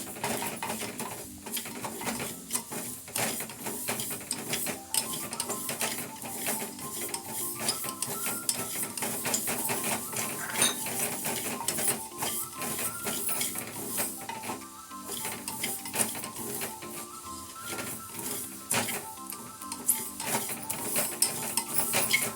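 Mustard seeds and a little fenugreek crackle as they fry in hot oil for mango pickle: dense, continuous rapid popping and sizzling, close and steady, with no talk.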